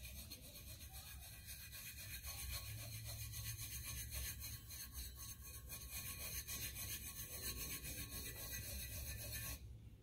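Steady, close scraping and rubbing as excess glitter is worked off a glitter tumbler by hand, a dense continuous texture that stops abruptly near the end.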